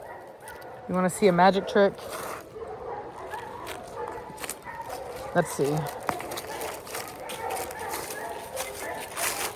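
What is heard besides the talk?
dogs barking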